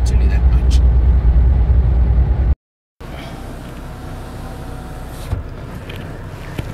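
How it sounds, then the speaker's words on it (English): A Mahindra Scorpio-N 4x4 SUV cruises on the highway at 120, its steady road and engine rumble filling the cabin, with a brief drop to silence midway before the drone resumes. "I'm sitting at 120 on the highway right now"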